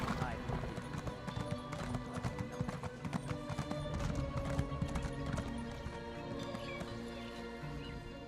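Rapid hoofbeats clatter continuously as horses gallop in The Elder Scrolls Online, with a neigh breaking through and a voice talking over the pounding rhythm.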